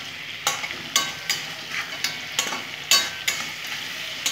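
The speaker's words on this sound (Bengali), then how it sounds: "এখানে হলুদ দেবো বন্ধুরা, আমি একটু ভেজে নেব, সুন্দর করে ভেজে নেব বন্ধুরা।" Turmeric frying and being stirred in a pan, a steady close sizzle broken by sharp, regular scraping strokes about every half second, with no talk.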